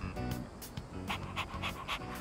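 Koromaru, the dog in Persona 3 Reload, panting in quick rhythmic huffs, steady, close and fairly soft, with a faint game background underneath.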